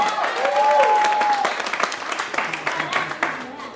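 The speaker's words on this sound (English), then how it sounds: "Clap for yourself." Church congregation clapping during a sermon, a loud burst of applause that fades into scattered claps over a few seconds, with voices and shouts mixed in.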